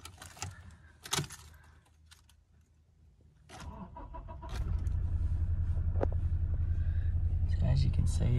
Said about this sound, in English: Stepping in to turn on the car now.